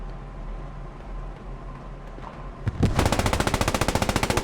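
Gunfire in the video game PostScriptum erupts after a low ambient stretch, opening with a few loud single shots and then settling into a rapid, steady automatic burst that is close and dominant.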